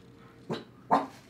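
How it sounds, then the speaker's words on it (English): Pet dogs at home let out two short, sharp barks about half a second apart, close by, with no talking over them. "If y'all don't get up out of here trying to bark at people."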